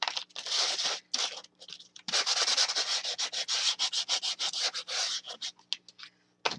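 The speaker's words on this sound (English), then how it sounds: "just take a sanding block and go make sure it's got smooth edges" Sanding block rubbed over the edges of a wooden tissue box, a close, steady run of rhythmic scratchy strokes with brief pauses between passes.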